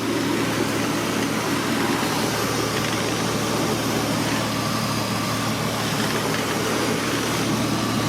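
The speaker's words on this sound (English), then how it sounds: "She's idling pretty good. I mean, it's real quiet even with that exhaust on it." A Honda Accord V6 with an aftermarket exhaust idles during a thermostat replacement, giving a steady, low, even engine hum with no revving. It stays at a constant moderate level and nobody speaks.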